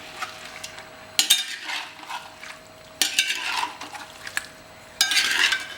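Dry spices for Mysore mutton curry are stirred in a pan over a raised gas flame with no oil or ghee, giving three or four close, bright scraping and clinking bursts separated by quiet pauses.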